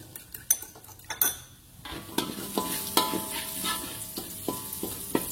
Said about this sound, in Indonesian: Sementara itu ada 1 butir telur ya, yang kita kocok lepas nih.